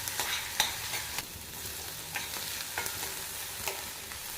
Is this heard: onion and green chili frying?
yes